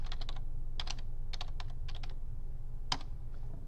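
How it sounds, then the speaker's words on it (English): Clustered keystrokes on a computer keyboard while typing days of the week into a Microsoft Word document, crisp close taps in short bursts separated by pauses, ending with a single firmer key press. "I'm just going to type my days going across."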